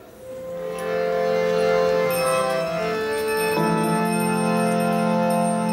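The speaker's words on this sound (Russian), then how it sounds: "Поют колокольчики." Small bells ring together in a sustained shimmering chime, layered tones ringing on and overlapping, fairly close and steady.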